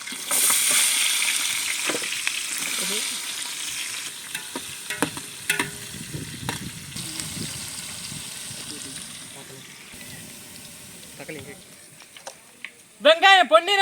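Chopped big onions frying in oil with cardamom, mace, star anise, kalpasi, cumin and green chilies for a mushroom biryani, a steady close sizzle with stirring scrapes and clinks throughout, a few louder metallic knocks near the end.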